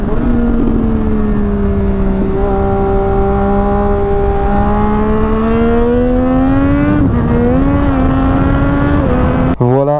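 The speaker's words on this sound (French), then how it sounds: "cet incroyable bruit qui est vraiment beaucoup trop démoniaque." A Triumph Daytona 765 Moto2 motorcycle engine roars loud and close in a steady, sustained drone that climbs in pitch, with a brief shift midway and a sudden cutoff at the end.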